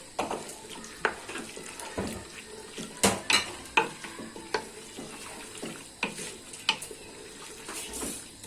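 Seafood paella cooks in a pressure-cooker pot with tomato paste added, the spoon scraping and clinking against the pot in irregular strokes over a soft, steady sizzle of frying.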